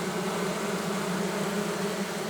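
Honeybees hum steadily at an open hive while the beekeeper works the frames, a dense, continuous buzzing drone that stays close and even with no talking.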